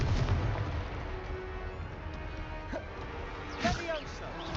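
Fire blast spell explosions in Hogwarts Legacy, with low rumbling booms and a few sharp bursts near the end, set against steady game ambience and music.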